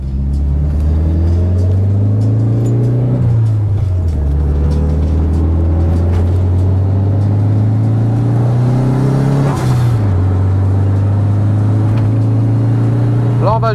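A Nissan S13 on a race track at a Japanese car festival drones loudly from inside the cabin, its engine rising and falling through gear changes as it warms up the tyres, with people talking over it.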